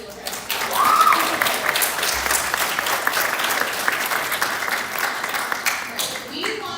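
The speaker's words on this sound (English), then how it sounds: "Let's give a round of applause for all the field trips." A school assembly audience applauds, a dense wash of clapping that swells early and then holds steady before fading, with a few voices mixed in.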